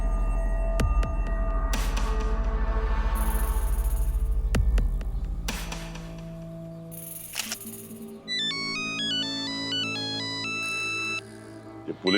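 A low electronic hum and thumps give way to a melodic phone ringtone, a looping tune of bright tones that plays for several seconds.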